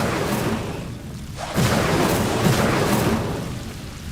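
An Incendio fire spell cast in Hogwarts Legacy bursts out as a single loud whooshing blast partway through, over a continuous dense wash of game ambience.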